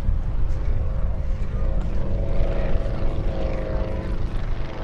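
Display team aircraft from Team Mono fly in close formation at the Midlands Air Festival 2023, their propeller engines giving a steady, loud droning roar that holds throughout with no talk.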